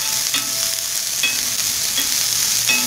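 Ingredients for spicy ragi dosa fry in a hot pan with a steady, close sizzle, and a few brief scrapes and stirs punctuate it.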